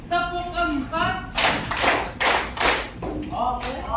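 A class of fifth-grade elementary school children claps together in a clapping game, producing about four sharp unison claps in a row, with an adult voice speaking before and after.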